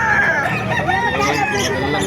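A rooster crows loudly and close, its long strained call carrying over a busy background of voices and farmyard clucking at a chicken market in Calumpit, Bulacan, Philippines.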